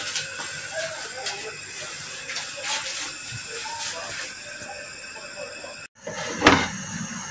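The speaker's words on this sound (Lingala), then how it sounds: "Na yango wana na koleka mpona kosukola ba légumes na ngai" Water runs in a steady hiss as vegetables are washed, cutting off briefly before a splash and clatter.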